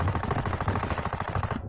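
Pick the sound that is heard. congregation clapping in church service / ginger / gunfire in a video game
gunfire in a video game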